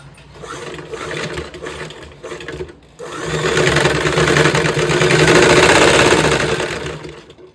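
A sewing machine stitches a saree blouse, running in a steady close whirring buzz that pauses briefly near the three-second mark, then resumes louder and continuous, with no talking.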